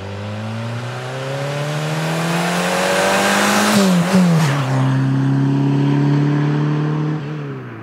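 A Peugeot 205 Turbo engine idling and revving with its exhaust disconnected to run open, a loud raw drone that rises in pitch, flutters briefly, then settles into a steady higher hold before dropping away.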